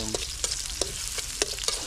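Silver carp fish sautéing in a pan for adobo, with a steady bright sizzle broken by several sharp stirring scrapes and clicks, close and fairly loud, no voices.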